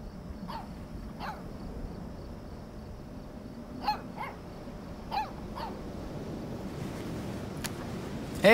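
A pup barks a few times on a windy beach in the video game Life is Strange 2, the short, moderately distant yips spread over a steady wash of surf and wind.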